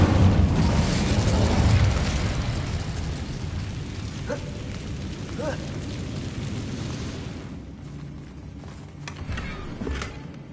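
Incendio fire spell cast in the Hogwarts Legacy video game: a loud eruptive roar and rumble opens, then fades into crackling pops and small creaks over a lower, steady bed of game sound.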